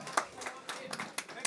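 Audience clapping for the teams at a Splatoon 3 tournament, the UNCG Spartan Invitational, heard as sparse, fairly quiet claps from a small crowd with a voice over them.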